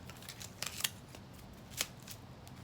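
Snips and clicks from cutting through layered internal parts while an iPhone 7 is taken apart, a few sharp close cuts clustered early and one more later, over a low steady background hum.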